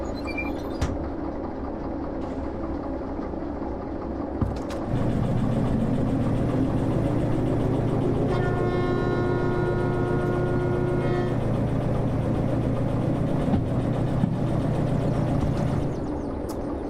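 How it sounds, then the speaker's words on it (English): A small locomotive pulls a heavy train in the Derail Valley train simulator. After a quiet start, a steady low engine drone sets in a few seconds in, with a tonal whine layered on top partway through. "I like the idea of moving the big heavy train with this little engine."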